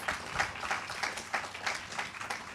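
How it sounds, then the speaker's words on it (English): An audience at a summit ceremony applauding a content creator, a steady patter of many hands clapping at moderate distance, fairly quiet and even throughout without voices over it. "Let's give him a round of applause"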